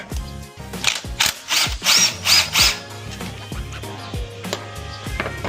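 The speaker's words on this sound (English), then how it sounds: "I'm just gonna go ahead and just remove these guys right here. These are just little 10mm nuts." A ratchet removes small 10mm nuts on a 2024 Mustang GT S650. It gives close, rapid clicking bursts with a few metallic knocks and some quieter handling noise.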